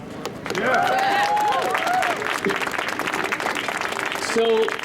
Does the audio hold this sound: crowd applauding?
yes